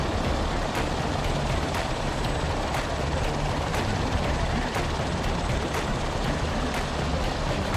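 A Sikorsky S-76 helicopter in the FlightGear flight simulator, its engine and rotor producing a loud, steady broadband drone with faint regular blade pulses that run through the whole stretch.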